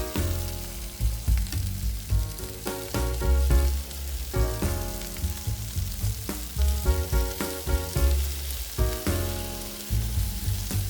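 Green chili peppers pan-searing in a hot pan, a dense continuous sizzle with crackling pops over a low rhythmic hum, steady and fairly loud throughout without any talking.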